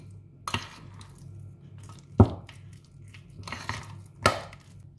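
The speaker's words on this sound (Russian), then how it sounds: "Добавляю майонез и перемешиваю." Cream cheese with 60% fat being stirred with mayonnaise into a dressing, a spoon giving a few soft scrapes and clinks against the bowl, spaced a second or two apart, close and quiet.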